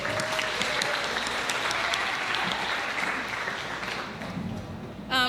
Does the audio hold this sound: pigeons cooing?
no